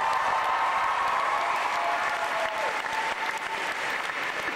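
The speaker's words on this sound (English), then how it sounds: "Come on, a round of applause." Sustained audience applause at a university debate on whether God exists, a dense, steady wash of many hands clapping that carries on through the whole stretch and eases slightly near the end.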